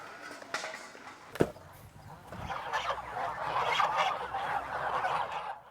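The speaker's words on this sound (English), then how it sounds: "At a goose farm, Daszak and his team are looking for signs o" Geese honking at a goose farm, a dense chorus of calls building from faint to steady in the middle distance, with a sharp knock partway through and no talk.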